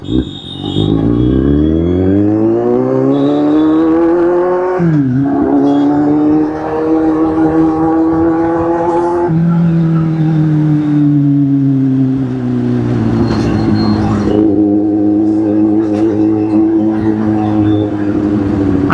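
A vehicle driving on a road, its engine loud and close, rising in pitch as it accelerates through gear changes and then settling into a steady drone at cruising speed.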